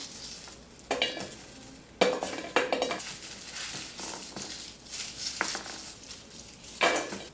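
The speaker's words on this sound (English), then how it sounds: "Now you want to take 2 metal bowls and put your cloves in there." Garlic cloves, still in their shells, are put into metal bowls with several sharp metallic clatters and clinks spaced a second or two apart, close and fairly loud, with no speech.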